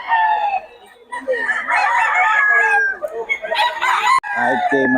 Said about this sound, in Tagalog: Manok ni Boss Nelson